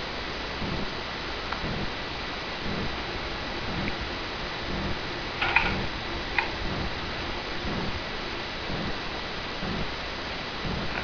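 A knockoff ceiling fan runs at medium speed with a steady low whir, and its slide bearing gives a faint, regular ticking that repeats throughout.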